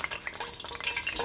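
Water drops hit hot frying oil in a Cajun fish fry, giving a bright, crackling sizzle with sharp spits and pops throughout, close and fairly quiet, with no talk.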